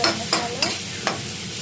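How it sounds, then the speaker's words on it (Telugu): Garam masala paste frying fast over a high flame, a steady close sizzle broken by several sharp scraping stirs spaced evenly through the short stretch. "నేను ఇది హై ఫ్లేమ్ వేసి ఫాస్ట్గా ఫ్రై చేసుకోవాలి"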